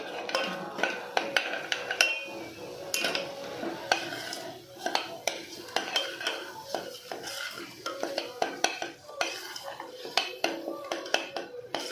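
Chicken keema stirred and fried in a pan, with a spoon scraping and clinking against the metal in steady irregular strokes under a soft sizzle, close and fairly loud throughout.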